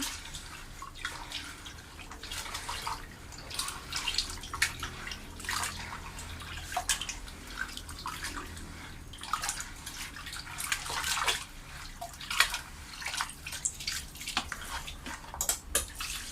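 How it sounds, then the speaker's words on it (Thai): Sand is washed with water before bulb planting: steady splashing and sloshing as water is poured and stirred through it, with scattered drips and trickles, close and moderately quiet, continuing for the whole stretch with no talking. "ล้างทรายจนเป็นน้ำสีขาวเลยนะคะ"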